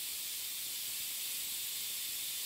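A pressure cooker on high flame, holding tomato biryani, lets out a steady, continuous steam hiss at moderate level, with no talk.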